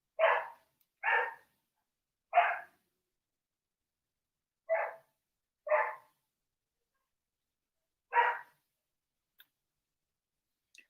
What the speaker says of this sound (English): Pardon my dog. She has an attitude problem.